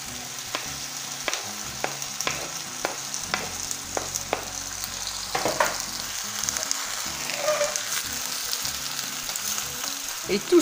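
Bell peppers and white cabbage fry in a pan with stock cubes in a home kitchen, giving a steady sizzle broken by sharp, regular knocks of a utensil stirring against the pan.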